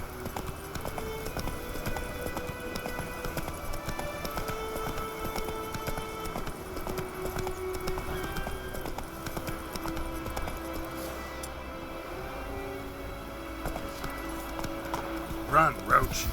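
Roach the horse gallops in The Witcher 3, with steady rhythmic hoofbeats thudding on through the clip under voices and background game sound.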